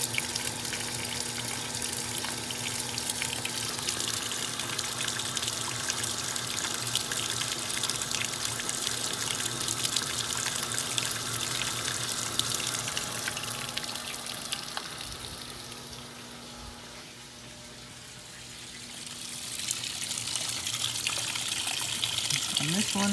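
Water pours steadily into a top-load washing machine on wash day, a constant rushing hiss that dips briefly near the end before resuming, with a low mechanical hum underneath.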